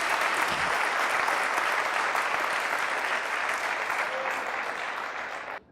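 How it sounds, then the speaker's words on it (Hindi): A church congregation breaks into steady, even clapping during a Hindi-language sermon, heard at a moderate distance and sustained for several seconds before cutting off. "हालेलुया, जोरदार तालियों से।"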